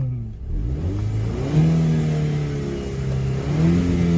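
An Audi TT Mk2's warm engine fires up with a short rev, its rising growl settling into a steady, fairly loud idle close by with no talk over it.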